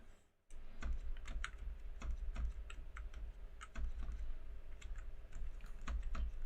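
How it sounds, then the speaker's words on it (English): Arrow keys on a computer keyboard are tapped repeatedly in an uneven rhythm, soft close clicks, some in quick pairs, over a quiet room hum, with no talk. "So I'm using the arrow keys to flip between the drawings here."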